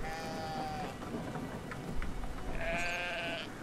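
Sheep in the Brothers video game bleat twice, a long wavering call at the start and another near the end, over a steady rain-like hiss with soft knocks between.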